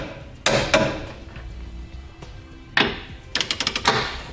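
Trailer hitch hardware on a 2009 Nissan Rogue is snugged up with a socket, giving a few sharp metallic clicks and then a quick rapid run of ratcheting clicks, close and crisp.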